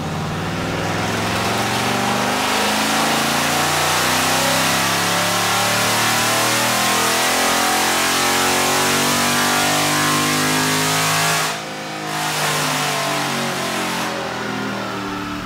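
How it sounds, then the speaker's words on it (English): A 6.4L Hemi V8 fitted with headers and stock exhaust, run at wide open throttle on a dyno: a loud, sustained, steadily rising engine roar close up, with a brief dip near the end before it picks back up. "And a quick run on the dyno with headers."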